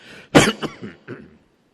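A single harsh throat clearing, one strong rasp followed by two or three smaller grunting clears, close and alone.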